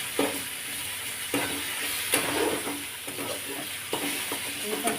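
Coconut paste sautés in hot oil for chicken curry, a loud steady sizzle broken by regular spoon strokes scraping the pan, with no talking.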